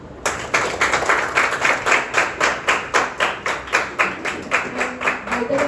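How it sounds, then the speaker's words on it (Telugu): An audience at a fashion design institute event claps together in a dense, steady round of applause that lasts several seconds, with rhythmic swells of hand claps close by. "so once again warm round of claps to her"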